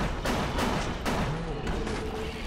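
Gunfire in the BioShock video game crackles in several sharp bursts spread over a couple of seconds, with a voice speaking between and over the shots.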